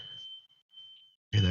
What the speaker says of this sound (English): I told you the smoke detector is going off now.